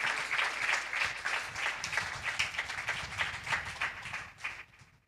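Church congregation clapping together in a worship service: several seconds of dense, fairly close applause that holds steady and then fades out at the end.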